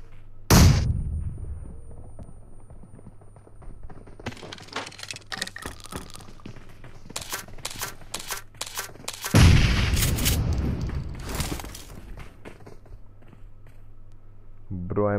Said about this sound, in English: With so many grenades.